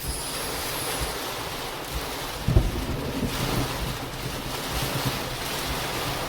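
Strong storm wind roars steadily against a house, a loud broadband rush with a brief thump partway through, heard up close with no talking.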